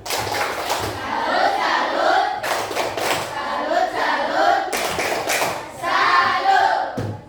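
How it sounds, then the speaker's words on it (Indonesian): A classroom of students claps a rhythmic 'tepuk salut' pattern for a classmate who asked a question, with chanting voices joining the bursts of clapping. "Tepuk salut dulu untuk penanya"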